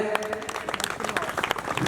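A stage audience welcomes guests with dense, lively applause. Many hands clap in quick, overlapping bursts for a couple of seconds, close and steady.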